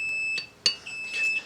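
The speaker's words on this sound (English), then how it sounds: "That was just a timer." A kitchen timer beeps during home bread-making, a steady high-pitched electronic tone that cuts off, followed by a sharp click and faint handling sounds.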